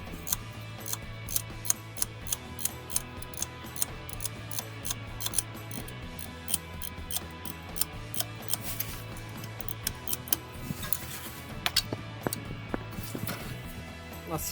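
A spanner ratcheting on bolts while removing the turbo from a Mercedes OM646 diesel engine in a W639 Viano/Vito van: steady rapid clicking of the ratchet with sharp metallic knocks, close up, over a faint low hum.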